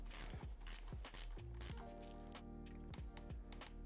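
A wrench ratchets a nut down to 4.4 foot-pounds on a KTM/Husqvarna/GASGAS 250/350 engine bottom end, giving a quiet, close series of sharp metallic clicks in quick bursts with brief pauses between them.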